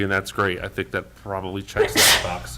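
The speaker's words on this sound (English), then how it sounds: "Bless you." A sharp, brief sneeze bursts out near the end during a town zoning board of appeals meeting, following steady talk from a man at the microphone.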